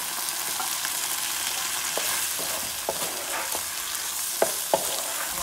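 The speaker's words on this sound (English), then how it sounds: "I'm going to mix the florets in the masala. The Manchurian masala." Fried cauliflower florets are tossed and stirred into Manchurian masala in a hot pan, a steady loud sizzle running throughout with scattered scraping and tapping of the spoon against the pan, close and without speech.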